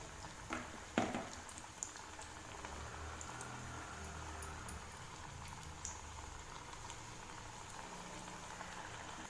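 Wheat flour pakoda frying in hot oil over a medium flame, a soft continuous bubbling sizzle with a few sharper pops near the start, steady and fairly quiet.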